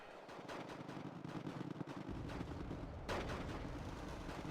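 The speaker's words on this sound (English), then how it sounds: "when you want a machine gun that shoots really fast" MG42-derived machine gun firing in the strategy video game Wargame Red Dragon, a dense continuous roar of rapid fire that thickens partway through and keeps going without pause, loud and with no voices.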